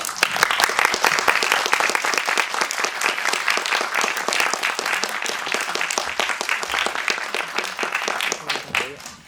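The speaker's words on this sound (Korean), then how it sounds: "큰 박수로 환영해 주시기 바랍니다." Audience applause welcomes actress Jeon Yeo-been to a film Q&A at the Marie Claire Film Festival: dense, steady clapping from many hands, loud and sustained for about nine seconds, easing slightly at the end.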